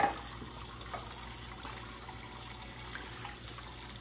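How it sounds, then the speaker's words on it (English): Kitchen faucet runs steadily as dishes, cups and a mug are rinsed before loading a dishwasher, a continuous close hiss of water with small splashes throughout and no talking. "Here's some ketchup I'm going to rinse off. Also going to rinse out the cups."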